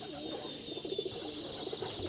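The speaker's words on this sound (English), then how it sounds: "here we have our pigeons, if you can hear in the background" Pigeons coo softly in the background outdoors on a conuco farm plot, a few low repeated murmuring calls under steady ambient hiss.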